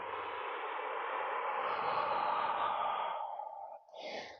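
A single long, deep exhale during yoga breathwork, breathy and close, flows smoothly for several seconds before tapering off into a softer breath.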